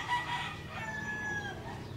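A broodcock rooster crows in a long, drawn-out call at moderate distance, with faint farmyard clucking beneath it.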